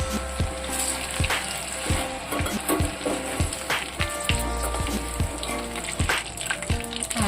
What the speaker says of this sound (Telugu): ఇలా అయిపోయేదాకా కూడా కొంచెం వేసుకుని వేయించేసుకోవాలి